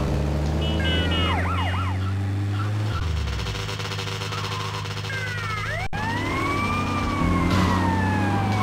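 In the video game GTA Vice City Stories, a police siren wails in rising and falling sweeps over a low engine rumble, loud and close, then whoops up again after a brief pause.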